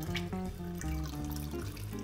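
A martini pour into a chilled glass, a steady liquid stream running for about two seconds, close and fairly loud, with no speech.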